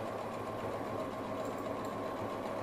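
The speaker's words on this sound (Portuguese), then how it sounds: "Costurando agora a base do meu bolso do meio." A sewing machine stitches the base of the middle pocket on a triangle-shaped zip pouch, a steady close mechanical whir with a rapid even needle rhythm and no pauses.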